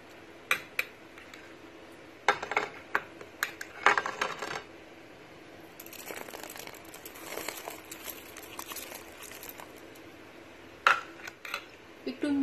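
A spoon stirs rice into boiling milk in a metal pot, giving scattered light clinks and scrapes against the pot. Quiet bubbling runs underneath, and a voice speaks softly in places.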